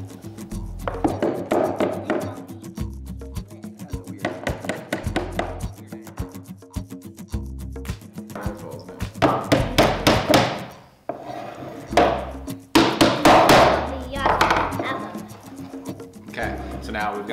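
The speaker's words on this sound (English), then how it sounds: "Hammer those right there." Nails are hammered into a small wooden jewelry box in a workshop: a run of quick, light taps repeats throughout, close by and mostly under a person talking.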